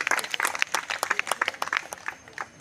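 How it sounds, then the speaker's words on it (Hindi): An audience claps for small children performing yoga poses at a school annual function, brisk uneven applause from a crowd of hands, fairly close and lively, fading slightly at the end. "तालियां बजाइए, तालियां रुकनी नहीं चाहिए बच्चों के लिए"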